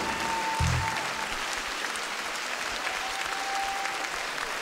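A large audience claps steadily and loudly for the Radvakov brothers' folk orchestra at the Potcoava de Aur 2019 folk music show, a dense, even wash of applause from start to end with no voices.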